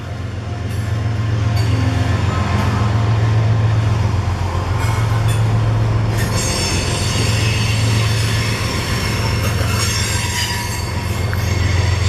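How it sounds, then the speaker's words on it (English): A freight train rolls in on the outermost wide track near Warm Springs, with loud, steady rumbling and wheels squealing high over the roar for the full stretch, close by and with no voices. "There's the train I just saw. He's coming in on the wide track."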